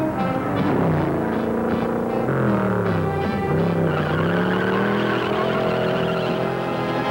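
A supercharged 327 Chevy-powered Studebaker Avanti II launches hard with heavy wheel spin, its engine note climbing loud and close over continuous squealing tires for several seconds.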